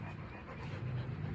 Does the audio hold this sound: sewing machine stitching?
no